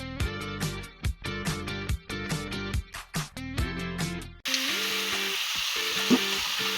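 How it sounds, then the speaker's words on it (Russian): Peppers, carrots and meat frying in a cauldron over an outdoor fire give a loud steady sizzle, broken at first by rhythmic scraping stirs and then settling into a continuous hiss as the meat goes in. "засыпаем сразу же перец и морковку. Перемешиваем все и добавляем мясо."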